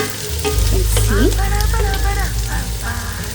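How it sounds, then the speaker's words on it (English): Onions sizzle and crackle steadily in a pan over a medium flame, loud and close, with stirring noises over the frying and no speech. "We need to have a lot of patience in frying these onions."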